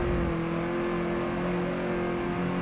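A Ford Fiesta ST on a hot lap roars down the straight of a race track at full throttle, with a loud, steady engine drone and road noise heard from inside the car, unbroken for nearly three seconds.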